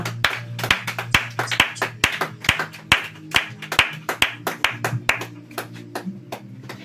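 A church congregation claps together in praise, a steady run of sharp, fairly loud hand claps in an even rhythm with a low hum beneath, and no talking over it.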